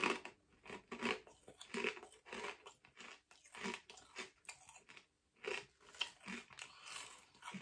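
Crisp, repeated crunching of hard crinkle cut crisps with a sausage aroma, bitten and chewed close to the mouth in irregular bursts, fairly quiet with no talking.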